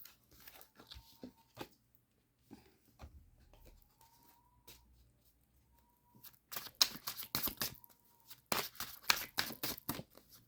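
Tarot cards shuffled by hand, soft scattered riffles and taps at first, then a denser run of quick crisp riffling bursts toward the end, close and quiet.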